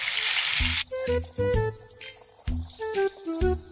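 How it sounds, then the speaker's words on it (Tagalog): Pork tapa fries in hot oil in a pan with a continuous hissing sizzle, partly masked by louder melodic background music throughout. "Magpapainit na tayo ng mantika sa kawali, at magpreprito na tayo ng pork tapa"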